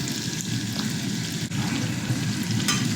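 Hot dogs fry in a pan while pancit bihon with canton is cooked, a steady close sizzle and crackle with faint stirring scrapes, no talking.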